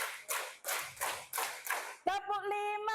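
A school group claps in a chant-style rhythm, several evenly spaced bursts of many hands at once, then a voice starts talking over the end.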